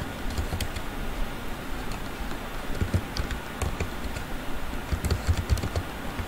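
Someone typing code on a computer keyboard, with steady, fairly close key clatter and a few heavier keystrokes running continuously against a low background hum.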